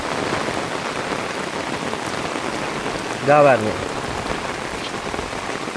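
Heavy monsoon downpour in flooded Jaffna, Sri Lanka, drums hard and steady on surfaces nearby, a dense unbroken roar with one short voice rising briefly in the middle.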